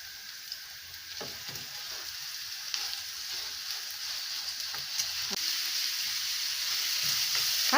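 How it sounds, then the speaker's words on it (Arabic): Minced meat sizzles hard in a frying pan over wilted onions, a constant loud crackling hiss with occasional clicks of stirring, growing slightly louder toward the end. "هجيب بقى اللحمه المفرومه انزل عليها بيها"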